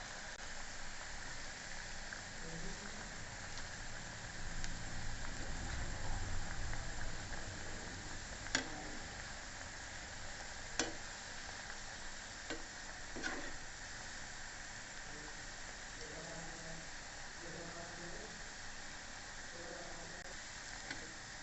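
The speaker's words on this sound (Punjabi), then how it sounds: "ਉਹਨਾਂ ਚਿਕਰ ਆਪਾਂ ਇਹਨੂੰ ਫਰਾਈ ਕਰਾਂਗੇ ਜੀ" Cauliflower pakoras (masala gobi pakoda) deep frying in hot oil, a steady broadband sizzle that runs throughout with a few faint clicks of utensils, no talk over it.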